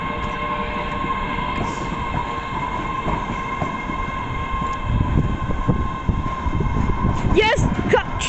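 Continuous roar of an MBTA subway train passing JFK/UMass station with rattling wheels and a sustained high-pitched screech, growing louder and rougher toward the end, with brief squeals.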